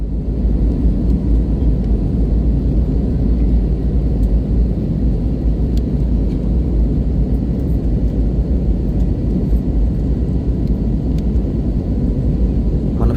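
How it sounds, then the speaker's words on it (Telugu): Inside the cabin of a passenger airplane in flight from Vijayawada to Hyderabad, the engines give off a loud, steady droning roar that holds constant throughout, with no voices. "మన ఫ్లైట్ అయితే ఎయిర్‌లో ఉన్నంత టైం ఇదే సౌండ్ వస్తదండి."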